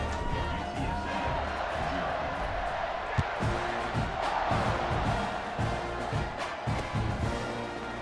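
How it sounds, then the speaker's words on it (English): A home crowd roars steadily in a college football video game, UTSA vs Texas A&M, as a constant wash of stadium noise. A commentator talks over the cheering throughout. "they're really feeding off of this home crowd and their energy"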